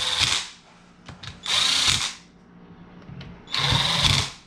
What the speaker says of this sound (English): All right, got the case on. Start zipping these down.